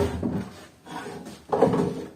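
The drawer of a bottom-mounted beehive pollen trap slides and knocks as it is handled, giving a few soft scraping, rattling movements close by and fairly quiet, with no one talking.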